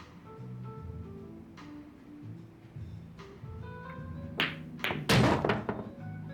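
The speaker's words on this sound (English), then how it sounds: "There it is, another carom shot." Billiard balls knock together during a carom shot in the Yakuza 0 pool game, a few hollow thunks and clacks over soft background game music, the sharpest hits coming near the end.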